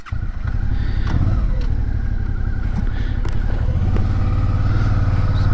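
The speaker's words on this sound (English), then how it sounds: "Just slowly lift the clutch and it will up the revs." A Suzuki V-Strom 650 motorcycle engine chugs at low revs as the bike creeps forward on the clutch, a close, steady rumble that rises slightly in pitch near the end.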